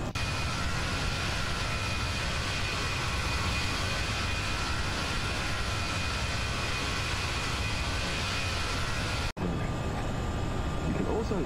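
FSLabs A320 airliner engines during climb in a flight simulator game, a loud, steady broadband roar with a constant whine that runs unbroken and then drops briefly before resuming.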